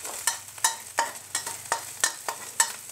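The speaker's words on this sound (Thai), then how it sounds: "ผัดให้หอมเลยค่ะ" Ready-made Thai curry paste is stir-fried in a pan for a mushroom and minced pork curry. A spatula scrapes in a quick, regular rhythm of about four strokes a second over a soft sizzle, close up and with no talking.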